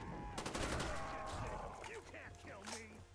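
AK-74 fire in the video game Black Ops Custom Zombies: a quick rattling burst of automatic shots followed by fading game effects, fairly quiet overall.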